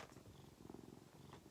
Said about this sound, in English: You can hear him purr, probably.